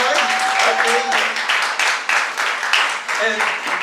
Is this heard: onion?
no